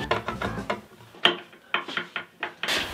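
A bolt is driven through a cast aluminum cabinet handle, giving a string of close, rough ratcheting clicks and grinding turns in uneven bursts with short pauses between strokes.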